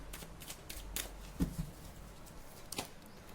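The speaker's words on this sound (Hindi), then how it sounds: "मैं पीछे शफल करके कार्ड निकाल देती हूँ" Tarot cards shuffled by hand: quick papery riffles and soft slaps come in short bursts, close and fairly quiet, with brief pauses between them.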